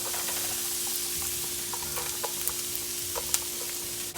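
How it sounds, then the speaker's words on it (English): Chopped onions sizzle in olive oil in a skillet on a stovetop, a steady close crackle with scattered small pops and no voices. "olive oil. I'm going to add my onions first."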